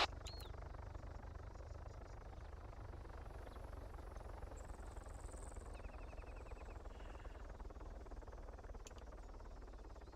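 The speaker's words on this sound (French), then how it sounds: "Il y a un second hélico." Steady, low rotor thrum of a helicopter in the video game Arma fills the whole stretch at an even level, with faint high beeps and tones above it.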